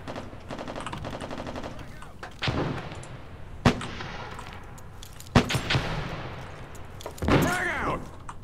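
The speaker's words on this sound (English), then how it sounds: "Look out, grenade!" Gunfire and a grenade blast in the military shooter America's Army: Proving Grounds: bursts of rapid rifle fire, sharp single cracks, and a heavier boom with ringing tail, loud and close, with brief voices in between.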